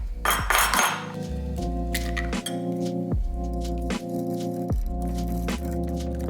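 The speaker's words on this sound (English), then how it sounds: "I'm going to beat 1 egg" A fork beats an egg in a bowl, clinking steadily against the dish in repeated rhythmic strokes, close and fairly loud, over a constant low hum.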